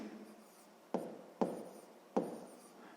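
A pen or pencil writes a math solution by hand in three distinct short strokes, each a crisp close scratch that fades quickly against a quiet background.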